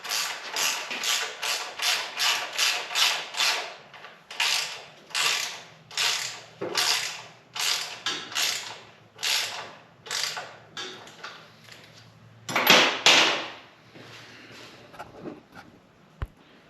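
Hand ratchet tightening bolts on the forward controls of a Yamaha XS650 motorcycle, a steady run of close, sharp clicking strokes in an even rhythm, with a brief louder burst near the end and no talk.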